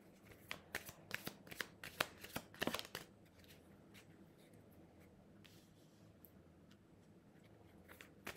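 A deck of playing cards being shuffled nearby in a quiet room, several quick riffling bursts in the first three seconds, then faint rustling and handling of the cards.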